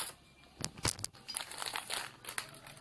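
A paper bag of flour is torn open and handled in a kitchen, giving soft crinkling and rustling with a few sharper rips, quiet and close, with no talking.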